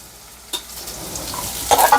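Okra stirred with salt in a hot frying pan, sizzling steadily with a spoon scrape partway through and a louder burst of frying near the end.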